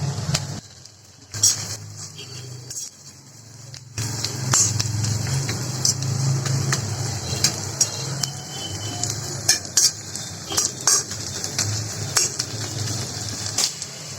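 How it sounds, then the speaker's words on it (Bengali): Beetroot frying in butter with chopped garlic and onion, a continuous sizzle broken by repeated sharp clicks and scrapes of a utensil against the pan, louder after a brief quieter start. "বিটরুটটা একটু ভেজে নেব"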